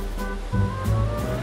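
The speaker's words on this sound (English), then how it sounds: "The sun is shining, sound of the waves, and what could be finer than that beautiful sight of Victorian seaside architecture, the pier?" Sea waves washing onto the beach at Southwold on the Suffolk coast near the Victorian pier, a steady broadband surf wash with low rumble, continuous and fairly close.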